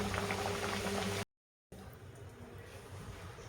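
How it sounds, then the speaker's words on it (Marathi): Red pumpkin gharge deep frying in hot oil, a loud, dense bubbling sizzle that cuts out abruptly for a moment, then returns softer and steady. "हे आता आपण अशा पद्धतीने सगळ्या घाऱ्या आपण तळून घेऊ."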